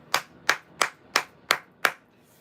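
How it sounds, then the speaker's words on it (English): Six sharp hand claps in a steady, evenly spaced rhythm, each crisp and close with a quick decay, nothing else heard between them. "Just clearing the energy with some claps."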